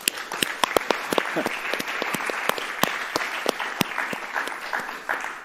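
Claps ring out in a hall at a political gathering, with sharp individual hand claps scattered over a murmuring crowd and the applause holding steady for several seconds.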